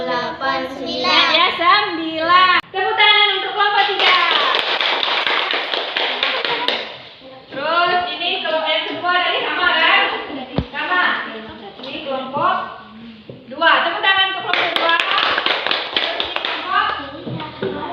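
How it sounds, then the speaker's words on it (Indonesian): Children in a Year 5 classroom clap together for a group, a busy continuous patter of many hands, loud and close, with children's voices mixed in. "Tepuk tangan untuk kelompok 3."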